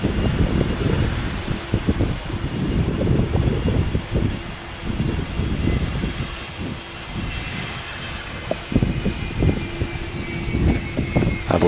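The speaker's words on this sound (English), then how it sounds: "I've listened to these Rolls-Royce engines." An airliner taxis past with its Rolls-Royce RB211 jet engines, a loud low rumble mixed with gusty wind buffeting and a faint high whine at an airport, steady over the whole stretch.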